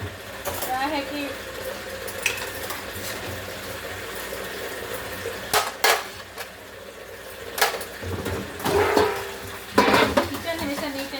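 Pots, plates and cutlery are scrubbed and rinsed in a household kitchen, with running tap water beneath scattered clinks and clanks, and someone speaking now and then.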